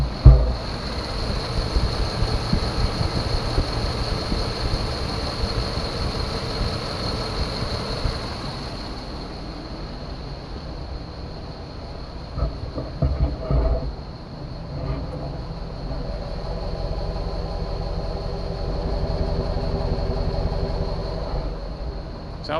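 A 1998 Chevrolet Suburban with a bad engine idles steadily while warming up, a continuous low rumble with wind and outdoor noise over it and a faint high whine throughout.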